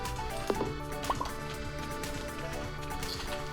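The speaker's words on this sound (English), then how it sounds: "Refill his water bowl." Water splashes and drips into a dog's bowl during a refill in the Stardew Valley farming game, with a few short liquid plops over steady background game music.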